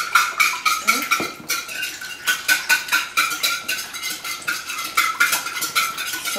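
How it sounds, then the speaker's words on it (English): Eggs and salt are whisked briskly in a mixing bowl, a fast, even run of metallic clicks and taps against the bowl, close and clear, pausing briefly once before resuming. "And now I'm going to whisk it."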